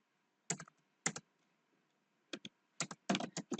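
Quiet, close keystrokes on a computer keyboard while working in Excel, arriving in short, irregular bursts of clicks separated by pauses.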